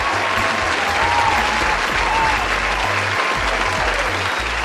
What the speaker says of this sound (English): Give that boy a round of applause.